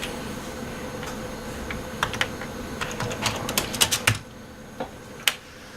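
Fingers tapping a computer keyboard, sparse at first then a quick burst of clustered keystrokes, a firm final press and a last isolated tap, close and alone without talk.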